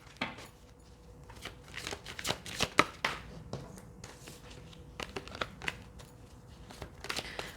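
Oracle cards being shuffled by hand during a tarot reading, a quiet series of soft riffling slaps and flutters in irregular bursts, close and alone.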